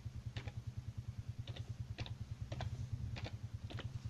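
Typing on a computer keyboard while entering a nation in the Football Manager 17 editor: a few quiet, separate key clicks in short groups over a steady low hum.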